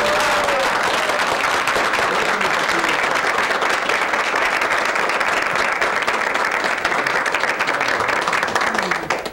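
Sustained applause from an audience at the close of a performance in a 1984 Colombian telenovela, a dense continuous wash of clapping that runs loud and unbroken throughout.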